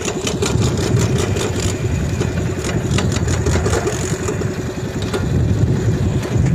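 A gas-powered farm tractor engine runs steadily close by, a loud continuous mid-pitched chugging with rapid regular firing pulses and no pauses, heard alone without talk.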